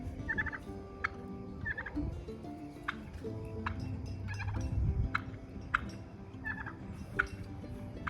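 A flock of guinea fowl calling, overlapping rhythmic chattering and clucking cries repeating from several birds at once, fairly close and continuous.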